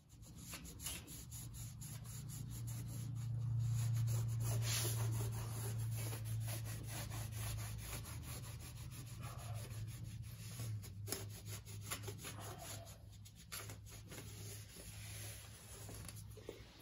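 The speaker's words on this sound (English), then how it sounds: "Anything that you see after you wipe it down, just finish scraping that up, clean it up real well" Steady rubbing and scraping of old sealant from an aluminum-sided RV window frame, a continuous close abrasive scrape with a low hum beneath, alone without talk.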